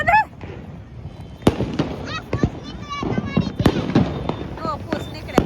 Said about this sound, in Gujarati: મિર્ચી પમ હાથમાં ફોડે છે